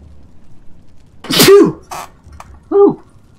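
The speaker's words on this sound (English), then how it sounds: "Man, sneezed so hard it hurt me." Two loud, close human sneezes a little over a second apart, each with a sharp inhaled build-up and a forceful burst, followed by a brief exhale between them.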